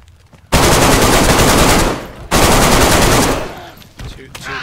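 Automatic gunfire in the DayZ Namalsk video game rips out in two long, loud, sustained bursts, followed by a few scattered shots and fainter noises.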